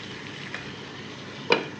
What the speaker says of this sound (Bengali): এবার না আমি একটু এটা কষিয়ে নেবো, তাও ঢাকা দিয়ে।